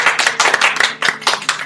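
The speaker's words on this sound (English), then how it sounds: "Everybody clap again" A small group claps together for a podcast guest, giving a quick run of close, sharp hand claps in uneven bursts.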